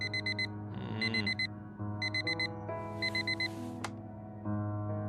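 An alarm clock tone from the video game Fragments of Him, bright rhythmic beeping in repeated bursts over a soft musical background, moderately quiet.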